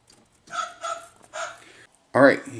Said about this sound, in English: I made sure that the voice box still worked.